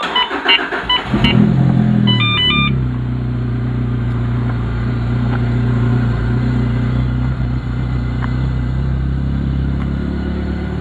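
A Lotus Elise engine cranks and fires, then settles into a steady, loud rumbling idle that holds evenly for several seconds, heard close by with no talking.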